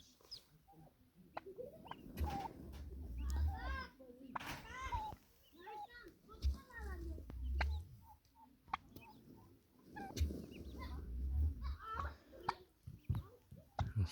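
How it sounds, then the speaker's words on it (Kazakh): Chickens cluck and chirp in a netted pen, with people talking over the birds throughout. "Міне біздің тауықтар осылай бөліп қойдық сеткімен."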